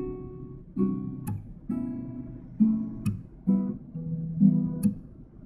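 A piece is played slowly on guitar in plucked notes and chords, each ringing out before the next, moderately loud and close, with no talk over the playing.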